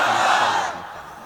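A large crowd at a Bangla Islamic waz gathering roars a loud, sustained collective shout of Allahu Akbar, filling the space at close range before tapering off.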